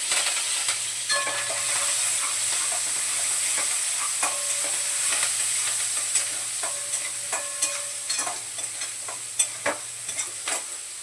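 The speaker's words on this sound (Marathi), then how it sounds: "कांदा परतून घेते जरा आणि कढीपत्ता धुतला आहे धुवून ठेवला हातावर तो वरतून टाकतो" Chopped onion and curry leaves fry in hot oil in a pan for a low-oil peas paneer masala, giving a steady sizzle and hiss with intermittent scraping stirs, close up and without talk.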